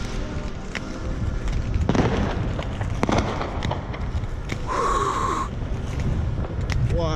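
New Year's Eve fireworks and firecrackers exploding over Kreuzlingen on Lake Constance, a constant dense crackle and rumble of bangs near and far, with sharp pops and a brief whistling rocket, and people talking over it.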